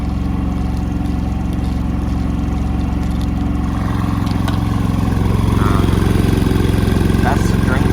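Predator 3500 watt inverter generator running with a steady low engine drone and hum, close by and loud, the pitch rising slightly toward the end.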